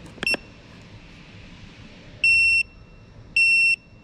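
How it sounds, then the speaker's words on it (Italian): A Kingbolen BM580 battery tester, checking an EN330 car starter battery, gives a short electronic chirp and then two sustained high beeps to signal the battery is dead, loud and close with no talk. "qui c'è il beep che ci segnala che la batteria è andata"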